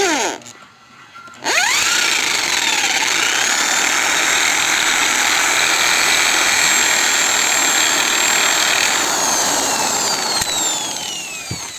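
Power drill boring a small pilot hole into a Rusi RS 125 Fi motorcycle headlight housing, a steady loud whirring hum that runs almost nonstop after a brief pause near the start.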